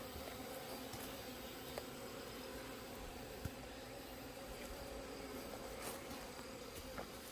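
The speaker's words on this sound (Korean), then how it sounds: "요거는 꼬마 장수 말벌이죠" Buzzing of small hornets flying around beehives, wasp-like and fairly close, droning continuously over a faint outdoor background.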